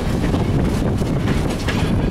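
A train pulling into Firestone platform in Greenfield Village, loud and close, with a continuous rumbling roll, wind buffeting the microphone and no one talking.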